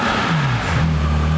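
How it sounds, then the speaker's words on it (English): A Porsche flat-six engine with its exhaust opened revs close by, a loud throaty roar whose pitch dips and then climbs again, with no talk over it. "That flat six is so distinctive in so many ways."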